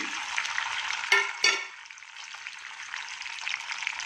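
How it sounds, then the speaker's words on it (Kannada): Mustard seeds, chana dal, urad dal, cumin, fenugreek, garlic and curry leaves sizzling in about three spoons of oil, a steady hiss with two sharp bursts as ingredients hit the pan, then settling into a quieter fizz. "ಇಲ್ಲಿ ಮೂರು ಸ್ಪೂನ್ ಎಣ್ಣೆ ಹಾಕ್ಕೊಂಡಿದ್ದೀನಿ ಸಾಸಿವೆ ಕಡಲೆಬೇಳೆ ಉದ್ದಿನಬೇಳೆ ಜೀರಿಗೆ ಮೆಂತ್ಯ ಬೆಳ್ಳುಳ್ಳಿ ಕರಿಬೇವು ಹಾಕ್ತಾಯಿದ್ದೀನಿ"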